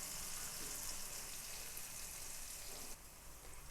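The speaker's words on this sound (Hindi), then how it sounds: "एक कढ़ाई में मैंने हाफ कप ऑयल या घी ले लिया है, आपने ले लेना है। ये इसमें डाल देंगे प्याज" Onions softening in half a cup of oil or ghee in a kadai for Lahori chana: a steady, fine hissing sizzle throughout, even and close, dipping slightly near the end.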